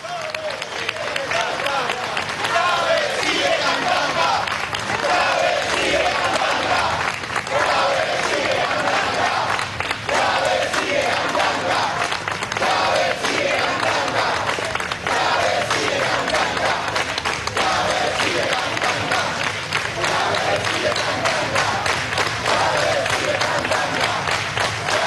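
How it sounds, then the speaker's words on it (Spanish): A large crowd at a commemorative political rally in Venezuela claps steadily through a minute of applause, a loud, dense and continuous wash of clapping with scattered cheers and voices mixed in. "Culminó el minuto de aplausos"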